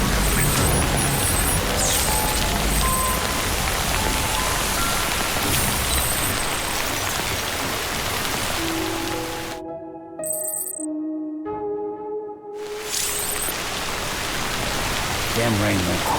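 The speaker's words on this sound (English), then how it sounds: "Damn rain won't quit." Steady heavy rain pours across the world of Death Stranding, a dense continuous wash that drops out briefly for a tonal menu-like chime sequence before the downpour returns at full strength.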